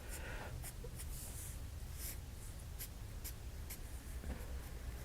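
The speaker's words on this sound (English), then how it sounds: "And just put some simple embellishments like with your swivel knife." A swivel knife carves decorative cuts into leather, producing faint, short scratching strokes repeated at an uneven pace in a quiet setting.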